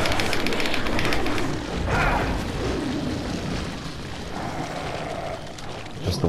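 A flash grenade goes off in the video game Resident Evil 4, a loud broadband blast that rumbles and fades over several seconds.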